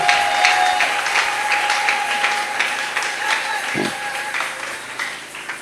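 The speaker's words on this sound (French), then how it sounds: "Acclamez-le si vous êtes d'accord." Church congregation applauding together, a dense wash of clapping that stays steady and fairly loud throughout, with crowd murmur beneath it.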